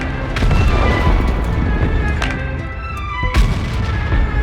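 A T-49 tank cannon in World of Tanks fires shells, with several sharp booming shots standing out over a constant heavy rumble of engine and battle noise. The loudest blast lands near the end, and no one speaks.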